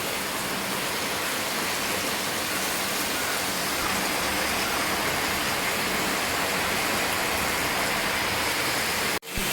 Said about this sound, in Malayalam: ഇതെങ്ങനെ മഴ പെയ്യുന്ന പ്രതീക്ഷിച്ചിട്ടില്ല.